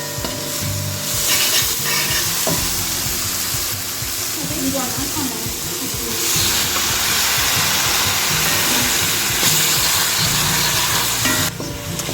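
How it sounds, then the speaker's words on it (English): A hot pot of green seasoning for curried fish hisses loudly as a little water hits it to deglaze, a strong steady sizzle and steam roar with stirring, a voice talking over parts of it. "Just to initially deglaze the pot."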